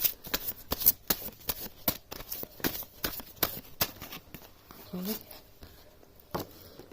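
A deck of oracle-style cards is shuffled by hand in a rapid run of crisp riffling bursts and soft slaps, close and fairly quiet, with no talking.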